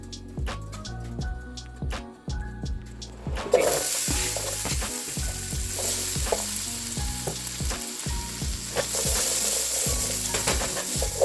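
Vegetables tossed in a couple teaspoons of oil in a pan fry with a steady, loud sizzle that jumps up when they hit the hot oil, with clinks and scrapes of stirring over the top and no one talking.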